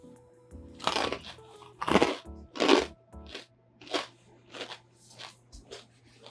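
Homemade bread bruschetta is bitten and chewed, producing a series of crisp, close crunches in an uneven rhythm, about eight bursts over several seconds with quiet gaps between.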